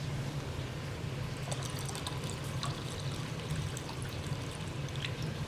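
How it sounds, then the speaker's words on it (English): Water is poured into a cooking dish for mlukhiyeh in a steady, close trickle with light splashing, continuous throughout and without talk. "I'm going to need to add more water to this."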